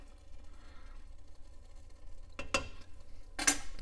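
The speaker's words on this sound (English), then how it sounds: "Go ahead and get this stirred up" A utensil stirs salt into a hog head cheese mixture in a pot, giving a few faint scrapes and two sharper clinks against the pot rim over low background noise, without speech.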